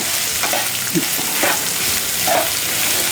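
Onions sizzle in hot oil for a tempering, a steady frying hiss with a few soft stirring clatters, close and fairly loud with no talk.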